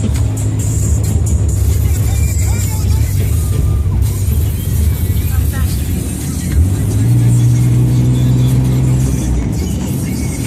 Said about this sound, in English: we're actually rolling in the truck. We're driving down the block. Got this thing up to 25 miles an hour